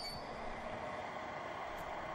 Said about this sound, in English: headed by a Hymek Type 3 diesel locomotive, arrives at East Budleigh to pick up returning passengers